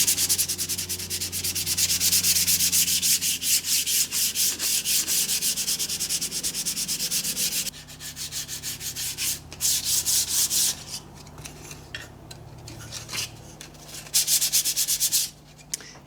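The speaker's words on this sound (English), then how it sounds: "when you're doing any sanding between coats with a finish like this" Continuous rhythmic sanding between coats of finish on a wooden bedside lamp, strokes of abrasive rubbing, close and steady, changing pace and texture partway through before stopping near the end.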